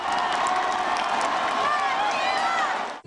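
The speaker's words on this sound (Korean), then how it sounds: "나주환 선수가 터뜨린 새 야구장에서의 첫 홈런포에 팬들은 뜨겁게 환호합니다" Baseball fans roar and cheer at a new ballpark after Na Ju-hwan's first home run there, a dense, sustained crowd din with shouts and whistles rising over it, loud and continuous throughout.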